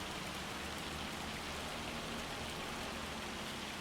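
Steady, dense rainfall in the video game Farming Simulator 25, an even hiss of drops on surfaces without pauses, soft and continuous.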